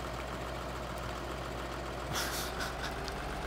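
A tractor engine idles in the Farming Simulator 2013 game: a steady, low mechanical drone throughout, with a few brief brighter noise bursts near the end and no talking.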